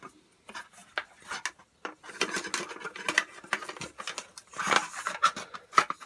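Cheap camping cook set of metal pots and utensils handled up close, with clattering, scraping and rubbing clinks in irregular bursts, louder toward the end.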